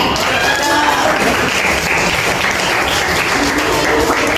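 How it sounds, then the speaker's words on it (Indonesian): Steady, dense applause from a class audience cheering a presenting student group in a school setting, loud and continuous throughout with a faint voice underneath. "Sekali lagi kita kasih aplaus untuk kelompok 3"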